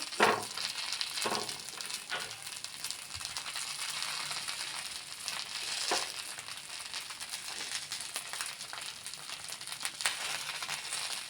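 Pizza pav pressed flat in a hot pan to crisp the underside, a close, continuous crackling sizzle with a few sharper pops and stirring sounds, no talking.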